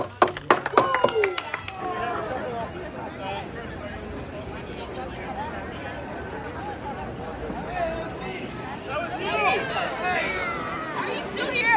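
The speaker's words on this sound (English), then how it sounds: "Round of applause for the throwers!" At a Renaissance festival in Todd Mission, Texas, a crowd applauds tomato throwers with a short, close burst of clapping, which gives way to steady crowd chatter and talking.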